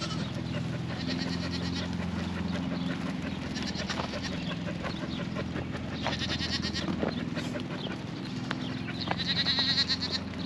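Goats and kids let out of their pen bleat repeatedly in short calls at a farm, near and far, over a constant outdoor background.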